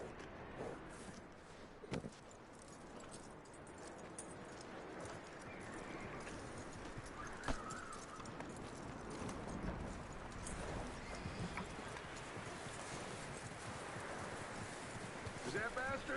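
Horse hooves clip-clopping in the video game Red Dead Redemption 2, a continuous steady trot under a rustling outdoor ambience with a few sharper knocks, while voices talk over it.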